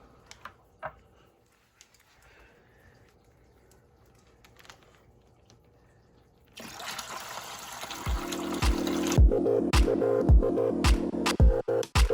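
Water from a fish transport bag pours into a net in a sudden steady rush after quiet, then gives way to rapid splashing and trickling with sharp clattering hits.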